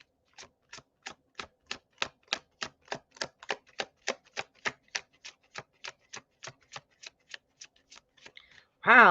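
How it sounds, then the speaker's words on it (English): A quick series of crisp, evenly spaced riffling snaps as a Tarot in Wonderland deck is shuffled, about two dozen in a row, ending with a short burst of voice. "that was another really good shuffle"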